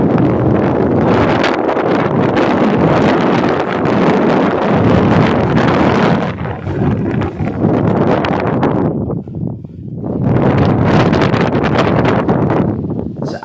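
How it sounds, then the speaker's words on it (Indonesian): Strong wind gusts roaring across a mountain on the Arjuno-Welirang climb, loud and buffeting against the microphone, with a brief lull before the blast returns. "pernahkah kalian merasakan hempasan angin"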